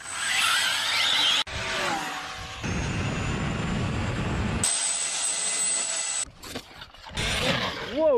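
An RC car with a new Castle 1512 2650kv motor and a very large pinion gear runs at speed, giving a loud, steady, high-pitched whine broken by shifts in pitch and short gaps as it passes.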